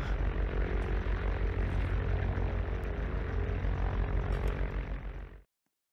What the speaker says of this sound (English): Seems like the tricky part is finding a place to land this plane.